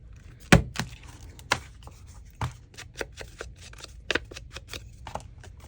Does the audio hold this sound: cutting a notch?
yes